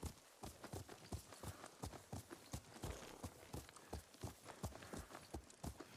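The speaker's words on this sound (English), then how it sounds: "Ride with Lord Shimura." A horse's hooves beat a steady, fast rhythm while ridden in the video game Ghost of Tsushima, an even run of dull thuds over a soft wind and ambience bed.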